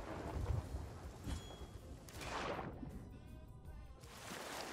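A thunderstorm in a video game arena match brings low rumbling thunder and a steady wash of rain and wind noise, swelling and easing over several seconds with no talk.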